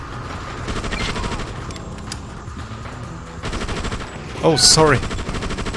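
Rapid gunfire from the video game Just Cause, repeated bursts of automatic shots crackling across the clip, mixed with game sounds and a man's brief spoken apology.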